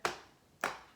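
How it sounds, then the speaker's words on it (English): Two crisp, evenly spaced hand claps from a Year 2 reading lesson, beating out the syllables of a word, quiet and close with no talk between them. "Let's clap it."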